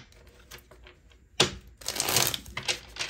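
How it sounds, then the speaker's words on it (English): Tarot cards are riffled and shuffled close by, with a sharp burst of flapping followed by a longer rustling shuffle that trails off. "One more good shuffle."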